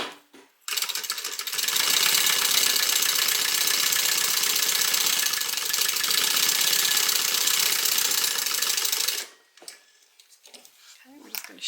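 Sewing machine stitching a Harumi bag, a steady fast mechanical whir running for about eight seconds at close range, starting and stopping abruptly with a few handling sounds around it.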